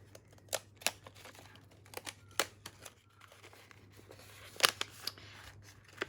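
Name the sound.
scissors trimming paper strips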